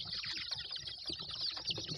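Soft, busy chorus of chicks peeping with occasional low clucks from hens, faint and continuous with scattered scratching.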